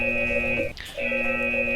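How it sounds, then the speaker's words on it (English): A steady electronic drone from a modded Minecraft sci-fi reactor, with layered tonal hums, briefly cutting out near the middle with a swooping blip before resuming, like a futuristic machine humming. "sci-fi sound, which sounds like this"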